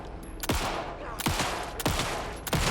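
Repeated gunshots in the video game Alan Wake 2, fired as sharp, loud reports about every half second to second in an irregular rhythm, each ringing out over a dense, sustained background of game noise.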